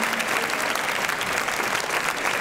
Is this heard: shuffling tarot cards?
no